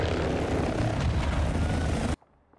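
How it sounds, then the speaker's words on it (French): Loud, steady rotor and engine roar of a helicopter in Call of Duty: Warzone 2 running continuously, then cutting off abruptly into near silence. "je pensais que l'hélico allait venir."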